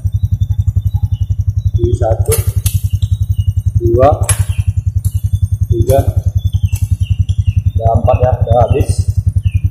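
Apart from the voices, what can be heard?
Revo Fi motorcycle engine running, gear engaged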